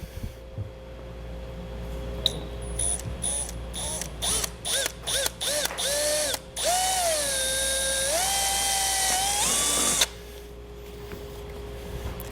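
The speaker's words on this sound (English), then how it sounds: "So I'm going to take a 1/4 inch drill bit" A whining power drill with a quarter-inch bit starts and stops in short bursts, then runs longer with its pitch dropping and rising as the bit works through material, close by.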